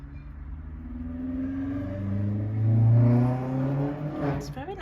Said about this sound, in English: It's very noisy traffic today,